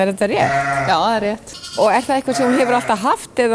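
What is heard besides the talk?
sheep bleating on a farm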